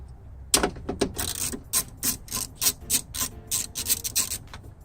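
A ratchet works on 10mm bolts in a Honda car door, a close run of quick clicking and rasping strokes in short repeated bursts.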